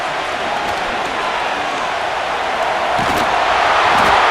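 A stadium crowd in the Madden NFL 25 video game, Pittsburgh Steelers vs Baltimore Ravens, roars loudly and steadily, rising slightly toward the end.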